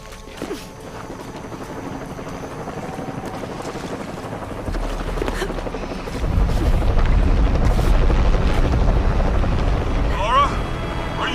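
Helicopter in the Tomb Raider video game, a low rotor rumble that swells louder midway and holds as a steady drone beneath game sounds and wind noise.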